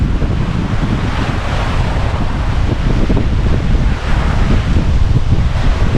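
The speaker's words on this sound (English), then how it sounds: "The waves is quite big" Big ocean waves and strong gale wind around a sailboat running downwind at about 10 knots in 30-knot winds off Norway near Ålesund, a loud, continuous roar of surf and buffeting wind noise on the microphone, with no talking.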